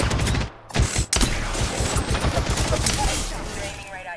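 Rapid bursts of gunfire from a video game squad battle, dense crackling volleys with a brief gap, close and loud, with a player's voice partly mixed in.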